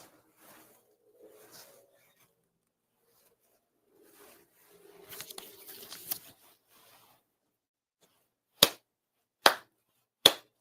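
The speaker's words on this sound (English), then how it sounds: "4 sincere claps" Three sharp, crisp ritual hand claps ring out near the end of a Konkō ceremony, evenly spaced and loud against a quiet room, following soft rustling and shuffling.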